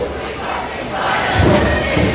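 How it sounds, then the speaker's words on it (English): Protest crowd outside a London immigration hotel chanting loudly in unison, a dense roaring wall of voices close by. "Listening to that chanting"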